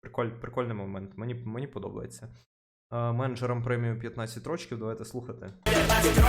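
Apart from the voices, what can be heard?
None of the usual background noises is heard.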